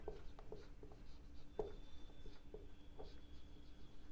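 Pen or chalk writing on a board during a class 9 maths lesson, faint scattered scratchy strokes and light taps in an irregular rhythm, close by in a quiet room.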